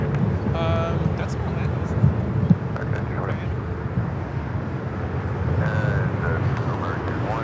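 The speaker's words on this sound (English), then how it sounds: "This flight coming in from Orlando, flight 1928, an A321 Neo waiting to cross over" An Airbus A321neo waits to cross a runway at LAX, with a steady broadband jet roar and wind rumble holding throughout; a few brief voices sound faintly over the engine noise.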